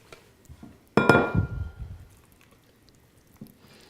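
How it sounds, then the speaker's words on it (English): A spatula scoops pesto into a bowl, giving one sharp clink against the bowl followed by fading scraping and a few quieter taps nearby. "So we're gonna scoop our pesto into our bowl here."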